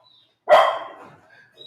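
A dog lets out a single sharp bark at garbage collectors outside, loud and close, with near silence before and after.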